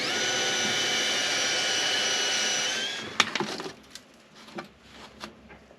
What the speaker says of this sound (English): I'm going to go ahead and drill a 1/8 pilot hole for those sheet metal screws.